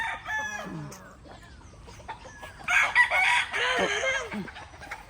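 Several hens cluck and squawk in short, choppy bursts close by, growing louder midway, with farmyard noise in the background.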